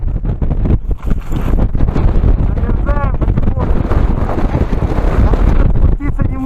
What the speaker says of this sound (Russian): Ветер усиливается.